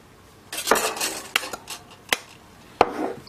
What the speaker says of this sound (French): Vous mettez tout dans la casserole, donc à savoir le lait,